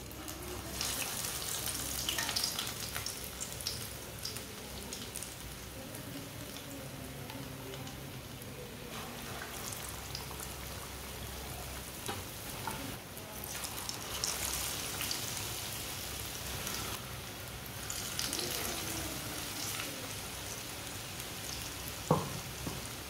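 Shami tikki dipped and frying in hot oil give a steady, close, crackling sizzle that runs throughout, with occasional louder pops and stirring clatter.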